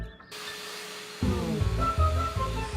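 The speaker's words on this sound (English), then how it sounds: "Mom, can I vacuum?" A household vacuum cleaner motor kicks on partway through, its whine rising into a loud steady drone with shifting tones as it moves, replacing a quieter hum that came before.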